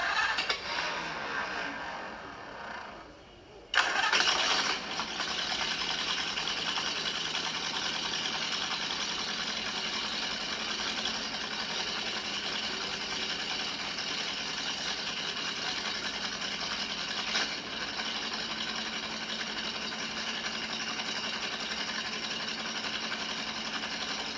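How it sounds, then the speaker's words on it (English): A 1932 hot rod roadster engine, left sitting for 15 years, cranks briefly, then catches and starts, settling into a loud, steady idle close by for the rest of the clip without speech. "he just came in and turned the key and it started right up"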